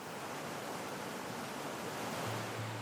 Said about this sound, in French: le Wadi d'Arba est l'une des pépites du Dhofar où l'on découvre de nombreuses sources et cascades